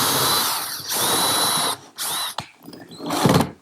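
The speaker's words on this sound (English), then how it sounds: "I pre-drill some holes for a couple screws." A power drill whines at high pitch in a few bursts, pre-drilling screw holes in a kitchen island, stopping and restarting with short pauses, close by with no talking.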